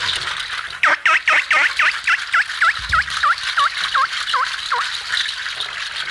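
A percussionist imitates a bird call on a hand percussion instrument, producing a steady series of about a dozen short, bright, chirping calls in a brisk even rhythm against a faint hiss.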